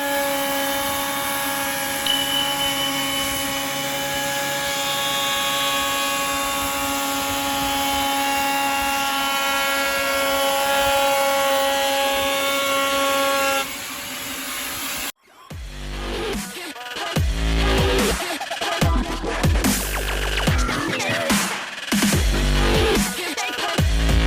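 A hull peeling machine cuts gelcoat from the hull of a Contessa 32 yacht for osmosis repair, a loud, steady high-pitched whine that breaks off abruptly, followed by harsh, uneven grinding bursts up close.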